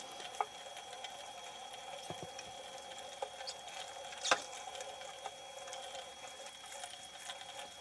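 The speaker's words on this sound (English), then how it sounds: "Make sure the water's clear when you're done rinsing it out." Tie-dyed fabric is rinsed under running water until it runs clear, making a faint, steady trickling stream with occasional small splashes and handling clicks.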